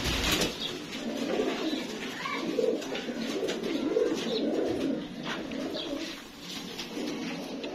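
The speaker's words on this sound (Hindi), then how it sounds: "ਸ਼ਿਕਰੇ ਕਬੂਤਰ ਹੈ" Shikra pigeons coo in soft, rolling phrases, repeated and fairly close, over a busy background of chirps and ambient hiss, with no one talking.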